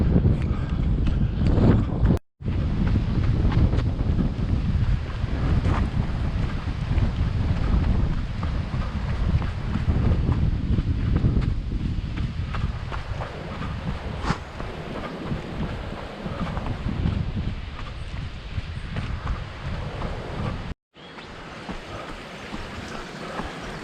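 Strong wind buffets the microphone on an exposed mountain saddle at Wilsons Promontory during a 44 km trail run. A loud, steady roar fills nearly the whole stretch, broken by two brief dropouts.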